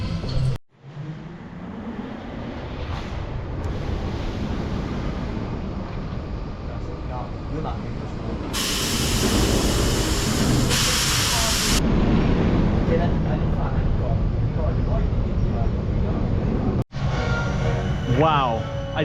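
iSpeed, an LSM launch roller coaster at Mirabilandia in Italy, roars loud and steady through the ride, with wind and train rumble building into a sustained rush.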